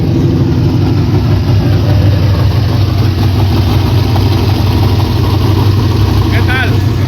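An engine fitted with an enormous carburetor runs at a loud, steady idle with a rough, throbbing low rumble that holds constant throughout, close by and with someone talking over it.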